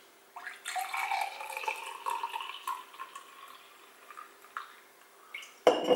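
Thin coffee pours steadily into a cup with a soft trickling splash, trailing off into a few drips before a small clink at the end.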